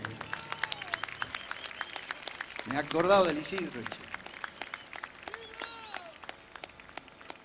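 Audience at an Independence Day festival gives a short burst of clapping and cheering that swells and fades within a couple of seconds, with someone talking over scattered claps before and after.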